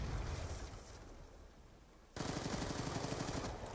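Light machine gun fire in the Black Ops 2 video game, dense rapid bursts of gunshots, loud and close, easing off midway before a second sustained burst resumes.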